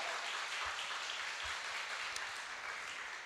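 Church congregation applause at a revival service, a dense, even wash of clapping from a crowd, steady and moderately loud for a few seconds without voices.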